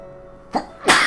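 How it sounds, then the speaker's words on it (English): Two sneezes in quick succession, the first short and the second louder and breathier, heard close and alone during a let's play session. "A double sneeze."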